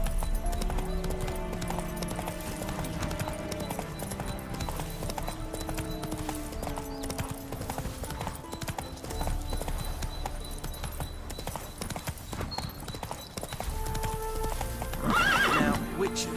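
Roach, Geralt's horse in The Witcher 3: Wild Hunt, gallops with steady clip-clopping hooves and whinnies under a bed of game music, with a voice speaking over it and a louder burst near the end.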